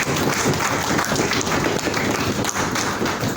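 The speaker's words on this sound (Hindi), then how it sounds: "मैं चाहूँगा कि इन सब के लिए आप ज़ोरदार तालियां दें" A conference audience in Pakistan claps loudly and continuously, a dense, even wash of many hands with no talk over it.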